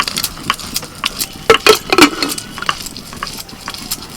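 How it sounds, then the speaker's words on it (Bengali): Mutton frying in a pan with bay leaf, cinnamon, cardamom and cloves, a close sizzle broken by sharp metal spoon scrapes and clinks, louder in the middle. "এবার মটনটা দিয়ে দিচ্ছি একটা তেজপাতা ছিঁড়ে দিচ্ছি এক টুকরো দারচিনি চারটে এলাচ আর চারটে লবঙ্গ দিয়ে দিচ্ছি"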